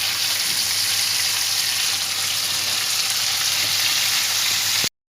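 Beef burger patties fry in a pan with a loud, dense, continuous sizzle close up that holds steady and then cuts off abruptly near the end.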